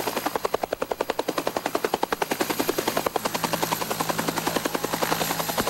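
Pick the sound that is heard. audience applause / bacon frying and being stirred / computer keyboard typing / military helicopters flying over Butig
military helicopters flying over Butig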